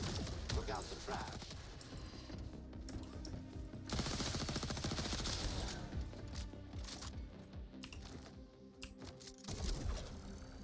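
Rapid gunfire bursts and crackling shots from the co-op space shooter Jump Space sound dense and continuous over a loud game soundscape, with a voice talking now and then.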